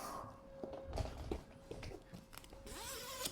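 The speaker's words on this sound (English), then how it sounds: "undo the zips" Zips being undone on a Travelpod Safe Space travel bed, a few short scratchy zipper pulls and fabric rustles close by, with a faint steady hum underneath.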